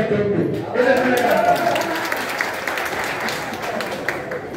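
An audience at a Bangladeshi film association election event claps steadily, a dense, moderately loud patter of applause that swells briefly early on and then holds.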